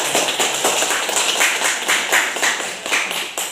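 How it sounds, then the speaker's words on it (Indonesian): An audience claps hands in a classroom, a brisk run of sharp, evenly spaced claps close by for several seconds with no talk over it. "Kita tepuk tangan dulu untuk."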